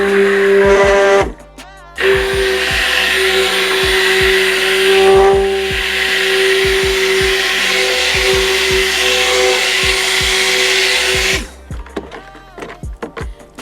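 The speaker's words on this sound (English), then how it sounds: "once I start blending this up" An electric stick blender whirs loud and steady, mixing honey and turmeric soap batter, with a brief pause near two seconds before it runs on until about eleven seconds, then stops, leaving faint clatter.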